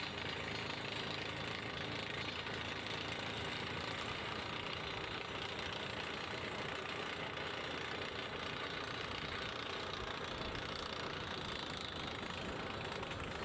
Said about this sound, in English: The operator lifts the rod while blowing compressed air to remove the cuttings from the drill hole.